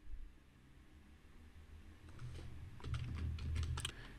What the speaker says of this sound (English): just type equal sign and click enter on keyboard